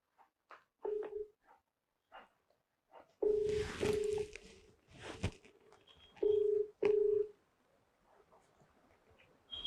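Short electronic dial tones beep one after another at an uneven pace, with brief pauses between presses, fairly quiet and close.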